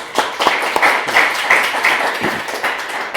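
Audience applause at a mob programming talk: a scattered round of claps from a modest crowd, close and fairly loud, uneven and thinning over three seconds.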